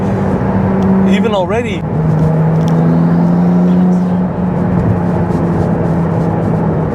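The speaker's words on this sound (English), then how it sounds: "It has like an intake noise." Ferrari 296 hybrid supercar engine and intake noise heard from inside the cabin while driving, a loud steady drone with a quick rising sweep of revs near the start, continuing beneath someone talking.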